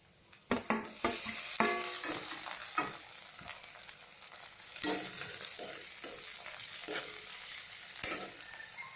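Soya chunks and potatoes are stirred and fried in a pan, with a constant sizzle under repeated scraping and clattering strokes of a spatula, close and fairly loud.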